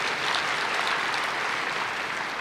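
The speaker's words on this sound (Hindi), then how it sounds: "ताली बजाओ" An audience claps continuously at a steady, dense level, a full round of applause in a hall with no voices over it.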